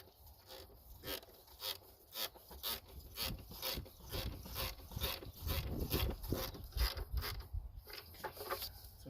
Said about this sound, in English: I use my swivel head ratchet to reach these, because it's a little bit tight.